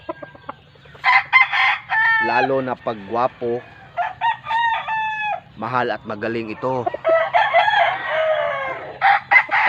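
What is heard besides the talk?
roosters crowing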